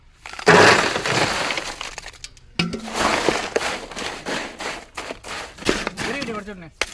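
Ice cubes are smashed for a watermelon shake, making sharp, loud cracking and crunching bursts in quick succession while people talk over them.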